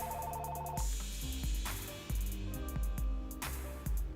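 Phone ringtone: a near, musical electronic melody with repeating beats and chimes, playing alone without any voices.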